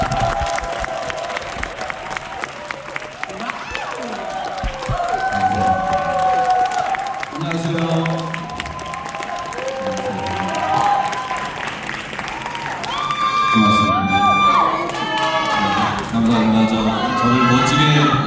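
A concert audience at a women's choir recital applauds and cheers to welcome the guest singer, with sustained clapping and scattered shouts under music that carries on through the applause.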